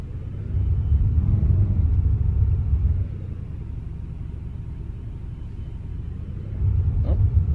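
A tourist bus engine in the Tourist Bus Simulator game rumbles steadily at a low pitch, louder at first, settling into an even idle, then rising again near the end.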